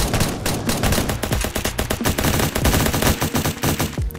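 An SMG in the Fortnite video game fires in rapid, loud bursts, dense rattling shots packed closely together over several seconds.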